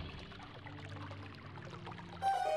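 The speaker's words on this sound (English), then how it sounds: "Okay, water's flowing in." Water pours and streams steadily into a chamber in The Legend of Zelda: Twilight Princess HD, a soft continuous rushing at low volume that swells slightly near the end.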